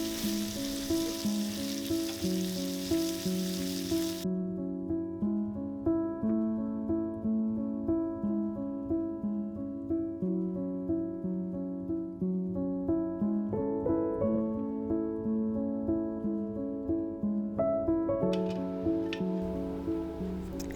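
A steak coated in Dijon mustard, salt and pepper sears in butter in a cast iron pan. A hiss of sizzling is clear at the start and again near the end, with steady music playing over it throughout.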